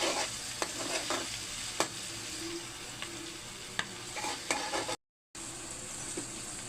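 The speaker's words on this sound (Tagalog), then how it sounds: "ang ating mga ginisang bawang, luya, saka sibuyas" Garlic, ginger and onion sizzle steadily as they are sautéed in a pan for bopis, with a constant close frying hiss broken by sharp clicks and scrapes of stirring and no voices.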